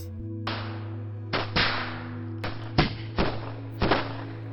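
Fireworks on the Fourth of July go off as a series of sharp, booming bursts, six or so in quick irregular succession, each ringing out over a steady low background drone.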